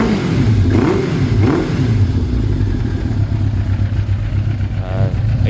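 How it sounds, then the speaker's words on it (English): A Suzuki Bandit 400cc motorcycle engine runs loud and close throughout, with a steady throbbing idle and rising revs, a faint voice heard underneath at moments. "Great sounding bike this is."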